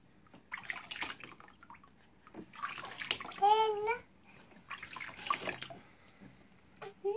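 Water sloshes and splashes in a bath as a baby is eased in, with a brief baby vocalization and soft adult talk in between.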